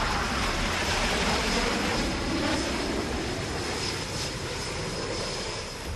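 Fighter jets and transport aircraft fly at the Tarang Shakti 2024 multinational air exercise in Sulur, Tamil Nadu, producing a loud, steady, unbroken jet roar that fills the whole stretch, with no talking.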